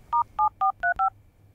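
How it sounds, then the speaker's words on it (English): Touch-tone telephone keypad being dialed: five evenly spaced, clean DTMF beeps, close and fairly loud, followed by quiet, with nobody speaking. "And you didn't actually dial a real number."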